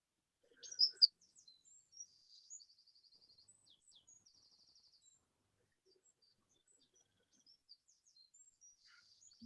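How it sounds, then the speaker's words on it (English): A recorded wren sings alone, a faint, high, rapid trilling song of tiny chirps and buzzy runs, starting with a sharp louder burst then continuing in quick bursts over near silence. "Here is the wren, tiny little bird,"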